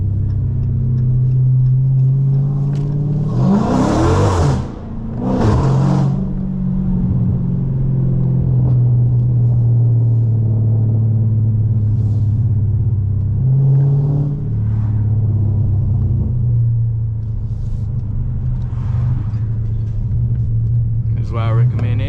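Car fitted with JBA catless midpipes and an MBRP straight-pipe race exhaust, heard from inside while driving: a loud, steady low engine drone throughout, with a couple of brief louder bursts early on and someone talking over it.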